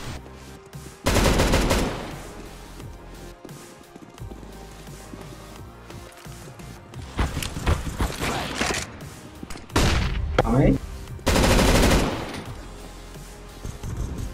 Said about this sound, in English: The M249 destroys, dude!